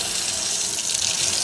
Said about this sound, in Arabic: لازم نغسل العدسات يا جماعة بمي فاترة